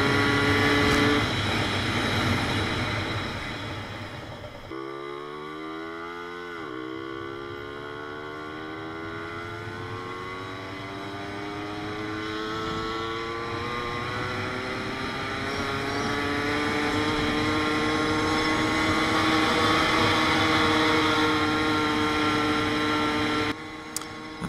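Puch Magnum moped engine droning close and steady while riding, its buzzing pitch dropping and then climbing as it revs through a gear change, then holding a higher, rising whine.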